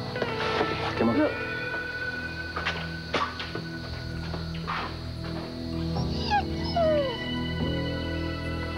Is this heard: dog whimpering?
yes